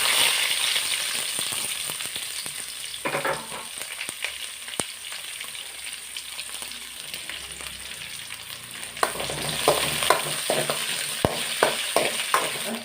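Onion, garlic and green chili sizzle steadily in a hot pan with oil, with close stirring clatter, a brief spatter burst early on and louder crackling bursts near the end.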